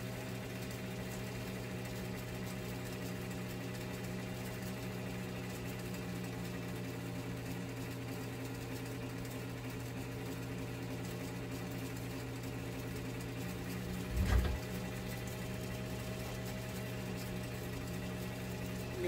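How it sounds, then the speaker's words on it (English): A restored Singer Featherweight with a full rotary hook runs at a steady, even hum for a long stretch, close and unbroken, with a brief mechanical knock partway through. "This is a full rotary hook machine, so you don't lose any power with the oscillating hook."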